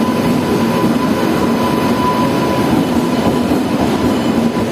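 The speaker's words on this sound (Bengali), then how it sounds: "আমাদের new Jalpaiguri Guwahati intercity express ঢুকে গেল 3 নম্বর প্ল্যাটফর্মে নিউ বঙ্গাইগাঁও রেল স্টেশনের" The New Jalpaiguri–Guwahati Intercity Express (15675) pulls into platform 3 at New Bongaigaon railway station, a loud, close, continuous rumble of wheels and carriages with a faint steady squeal and no pauses.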